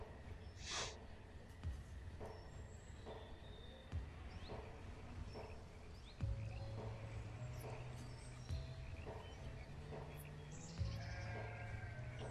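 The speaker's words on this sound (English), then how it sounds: "But, we have a baby sheep," A baby sheep bleats in the village-building game Banished: a few short, faint bleats rise over a steady low game ambience with scattered soft clicks and tones, no voices present.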